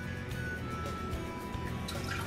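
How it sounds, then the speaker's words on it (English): Water dripping off blanched Swiss chard lifted from an ice bath, a soft steady trickle and patter of drops over a constant background wash, with no talking. "So I let them drip out as much of the water as I can"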